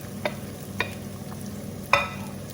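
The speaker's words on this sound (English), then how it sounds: "I'm on medium flame now, and I'm sauteing the onion" Onion sautéing in oil over a medium flame, in oil where mustard seeds were popped, with a steady low sizzle broken by three sharp spatula scrapes, the last one loudest. No voices.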